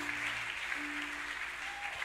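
A church congregation at a youth meeting in Rabat applauds, a dense, even wash of clapping that holds steady at moderate volume, with a faint sustained tone beneath.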